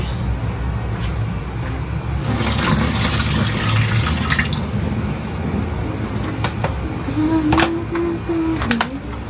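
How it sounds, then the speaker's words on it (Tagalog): Water pours in a steady, rushing stream to fill a container, loud and close, with a few clicks and a short tonal sound near the end. "Ilagyan ng tubig."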